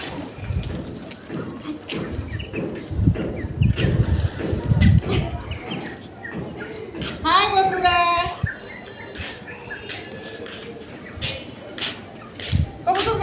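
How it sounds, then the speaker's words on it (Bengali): Pigeons on a sunny home rooftop coo and flutter at close range, with soft cooing and wing flaps that come and go while people talk nearby. "এই যে এগুলো কতগুলো কবুতর"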